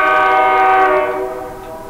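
A passing train sounds its horn in a loud, sustained blast that holds steady, then fades away as the train moves off.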